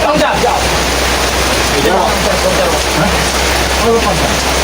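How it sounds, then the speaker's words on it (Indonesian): Steady rain falls in an even, dense hiss that fills the clip without a break, with faint low rumbling under it. "Turun hujan."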